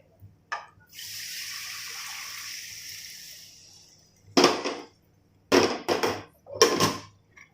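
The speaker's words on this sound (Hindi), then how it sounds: "मैं थोड़ा सा गर्म पानी डालूंगी, पानी डाल दे।" Hot water streams into a pan of raw banana curry in one steady pour lasting about three seconds, followed by several loud clattering, sizzling bursts from the pan.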